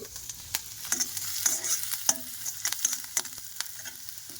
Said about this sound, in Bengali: আমি রাতের খাবার বানাচ্ছি